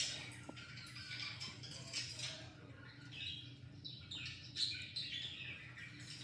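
A pet bird in a cage gives repeated short, bright chirps and tweets close by, scattered irregularly over a quiet indoor background with no talking.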